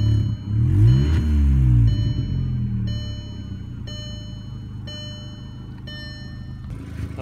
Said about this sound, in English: overall, it revs fine.